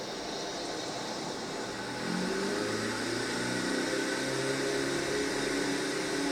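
Steady drone of a Relay Scout aircraft engine in a flight simulator game, heard at Walker's Island in fair weather. It holds an even, continuous hum that rises slightly in level partway through, with no talk over it.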